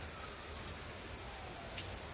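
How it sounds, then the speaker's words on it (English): Calm, steady rain shower in Henry County, Georgia, a gentle downpour with no wind, heard as a soft continuous hiss with scattered faint drop patters throughout. "It's a very nice rain shower right now."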